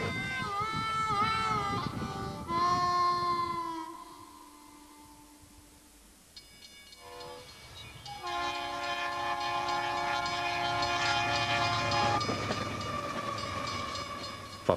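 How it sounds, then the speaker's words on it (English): Mile-long goods train on the Union Pacific Railway across Nebraska, its horn sounding in long sustained blasts, fading to a low rumble and then returning loud with steady wagon noise and rolling clatter. "So the daily routine is reinforced by a mile-long goods train every 15 minutes."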